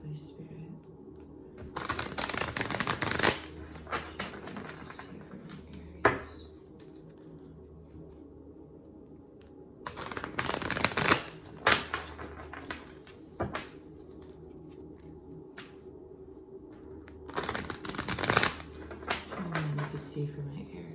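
Tarot cards being shuffled in bursts of soft riffling and flicking, separated by quiet pauses, close and fairly faint.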